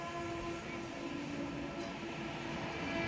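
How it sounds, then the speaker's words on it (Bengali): The Purushottam Express rumbles past at Belkuri near Ajodhya hill in Purulia as a steady, fairly faint drone of rolling wagons, running evenly throughout. "এ কোন ট্রেন যাচ্ছে রে? পুরুষোত্তম তো।"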